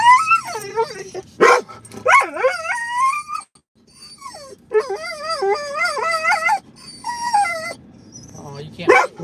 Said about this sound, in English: they're just little doggies. They're little doggies.